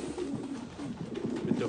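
Racing pigeons coo in a steady, overlapping low murmur, close and continuous with no talk.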